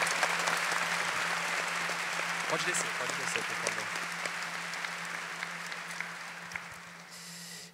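A church congregation gives a sustained round of applause that fades near the end, with a voice speaking over the clapping.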